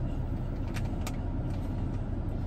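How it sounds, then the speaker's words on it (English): A car passes on a road near a beach, heard as a steady broadband road rumble with faint tyre hiss, close and fairly loud, with no talking. "Oh, wait, there's a car coming."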